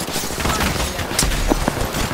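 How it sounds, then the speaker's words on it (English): Dense volley of gunfire from a group of enemies in a shooter video game, rapid overlapping shots forming a steady loud barrage with a few sharper cracks. "This is a whole firing squad!"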